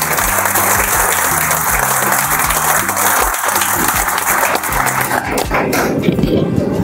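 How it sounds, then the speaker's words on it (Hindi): An audience gives enthusiastic applause for a speaker at an RCM Business gathering. The clapping is dense and continuous, loud and close, over booming music with a heavy repeating bass beat. "एक बार राकेश सर के लिए जबरदस्त तालियां हो जाए।"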